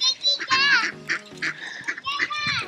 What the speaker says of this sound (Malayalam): ഈ താറാവ് തന്നെയാണ്.